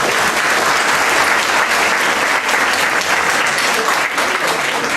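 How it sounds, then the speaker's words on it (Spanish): A lecture audience gives loud, sustained applause, a dense wash of many hands clapping continuously from start to finish with no voices over it. "¿Se merece un aplauso o no?"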